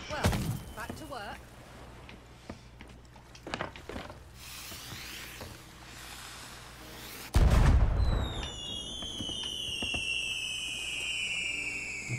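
Fireworks in the pirate game Sea of Thieves boom and crackle, with scattered thumps early, a loud deep burst midway, then whistling launches gliding down in pitch, while players talk over it.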